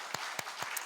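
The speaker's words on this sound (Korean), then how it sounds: "지금까지 에베네셀에 은혜 주신 하나님께 우리가 감사의 우리 박수로 한번 영광 돌리겠습니다." A Korean church congregation claps in thanks during a founding-anniversary Sunday service, a brief run of four evenly spaced, sharp claps in a steady rhythm.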